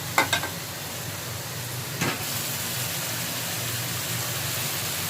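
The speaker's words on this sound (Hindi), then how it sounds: "तो ये मटर थोड़े फ्राई हो गए" Peas frying in a pan for vegetable chicken biryani give a steady, moderate sizzle, broken early by a few quick stirring clatters and one more scrape near the middle, heard close with no speech.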